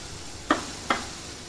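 Mango malpua batter sizzles steadily in hot oil, with two sharp clinks from a utensil against the pan about half a second apart.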